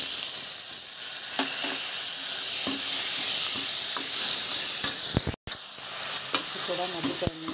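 Tomato pieces frying in a pan for idly sambar give off a continuous bright sizzle, with occasional soft stirring knocks and a brief dropout near the end.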